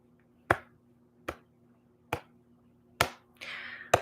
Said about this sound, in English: Doing lots of clapping today